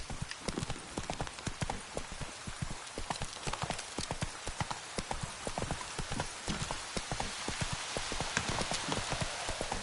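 Roach, a horse in The Witcher III, trots with steady, rapid clip-clopping hooves, close and continuous, alongside a soft patter like rain.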